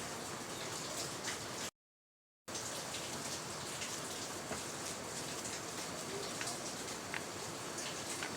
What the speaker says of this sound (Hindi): हमारे यहाँ बहुत बारिश है